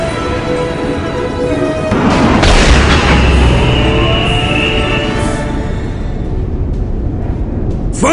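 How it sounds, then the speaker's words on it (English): Titan war-machine weapons fire on Necron monoliths in Warhammer 40K: Dawn of War, giving heavy, booming blasts with a long rumbling tail and crashing impacts that stay loud and dense throughout, with no talking. "Titan gunnery crew, fire on those monoliths and bring them down!"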